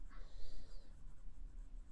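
Steel medium nib of a brown Lorelei 692 Duofold fountain pen scratching softly across paper, a short stretch of close, quiet writing strokes with a faint hiss.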